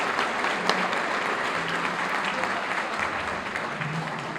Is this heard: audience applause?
yes